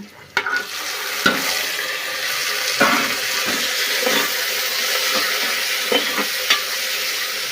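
Tomatoes sautéed in a pan after garlic has been fried, a loud continuous sizzle with a spatula scraping and tapping the pan at irregular intervals, up close, and no one speaking.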